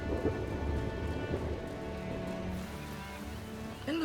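Rain falls as a steady, close hiss and patter that thins slightly partway through, with a deep rumble underneath.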